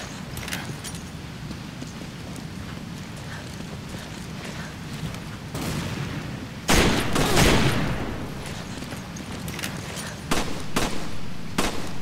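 Gunfire in the video game Resident Evil 5, repeated sharp shots in irregular bursts over a steady rumbling game background, with a louder, denser volley in the middle.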